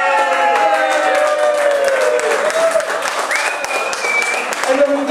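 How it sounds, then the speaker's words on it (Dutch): Crowd applause at a live stage show in Stompwijk, sustained clapping from an audience thanking the organisers, with a loud amplified voice and tonal sounds running over it throughout. "Applaus!"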